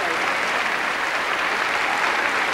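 A packed hall applauding the 1986 Eurovision Song Contest winner for Belgium, steady thick clapping from a large crowd that holds at an even level throughout.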